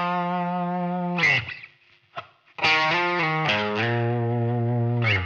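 An electric guitar with effects plays a short riff: sustained notes with wavering vibrato and sliding pitch bends, separated by a brief near-silent gap.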